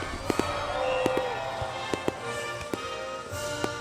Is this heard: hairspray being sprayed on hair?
no